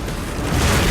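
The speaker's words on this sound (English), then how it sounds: "rigged with all kinds of propane jets and kerosene pots to create these incredible explosions" Large fireball explosion from propane jets and kerosene pots on a steel rig dragged down a runway for a film stunt, a loud sustained roaring whoosh filling the whole second with no voices.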